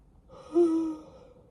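A single drawn-out yawn, rising into a brief voiced groan then fading, close and fairly clear.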